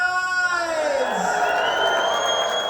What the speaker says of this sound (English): can you please give that applause go one more time for the band here